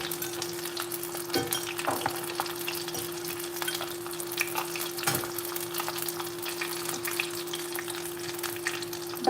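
Garlic frying in oil for escovitch fish, a steady close sizzle and crackle with occasional stirring clicks and a low constant hum beneath, no voices.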